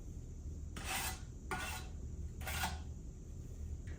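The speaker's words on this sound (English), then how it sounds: "just spread about a half inch on the back of each stone and kind of cleaning up the edges here as I go" A trowel spreads about half an inch of mortar across the back of a stone while building a stone fireplace. It makes three short, close, raspy scrapes with pauses between them and no talking.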